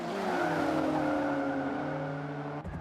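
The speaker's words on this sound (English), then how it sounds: "Oh, very late braking there by Rosny." Race car tires squeal hard under late braking in the Forza 5 racing game, a loud sustained screech over a droning engine that holds steady before cutting off near the end.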